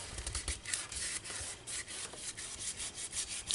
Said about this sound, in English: burnish it in